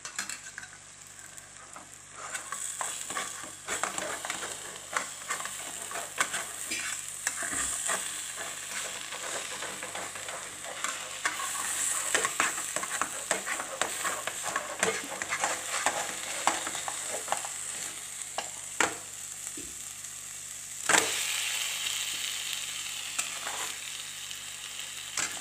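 Pomfret fish frying on a tawa with freshly ground masala, a continuous close sizzle and hiss of oil with occasional scrapes and clinks from a turner, steady throughout and free of speech.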